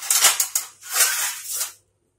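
Metal lid handled and set down over a pot while cleaning a kitchen countertop at night, a few clattering scrapes and clinks close by, then silence.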